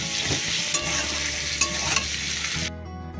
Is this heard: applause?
no